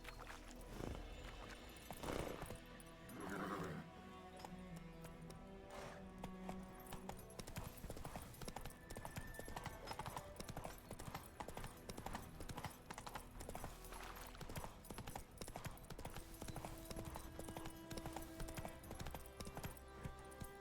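Roach, the horse in The Witcher 3, clip-clops at a steady trot, hooves thudding rhythmically and close over continuous game music.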